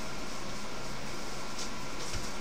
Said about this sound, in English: Sorry about the noise up here, the fan's going